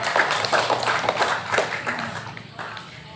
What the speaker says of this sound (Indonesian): kita berikan aplaus dulu kepada pemateri